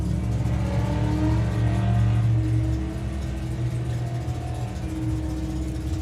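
A Mustang drag car accelerates hard down a drag strip, its engine a loud, steady roar that swells around the two-second mark and then settles to a sustained, slightly lower drone.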